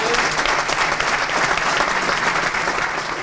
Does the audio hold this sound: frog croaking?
no